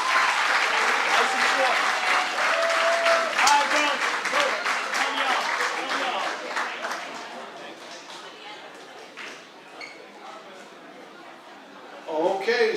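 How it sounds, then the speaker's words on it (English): A school sports awards crowd gives the girls varsity soccer team sustained applause that fades gradually, with voices and talk mixed in and a brief louder burst near the end. "so clap it up now."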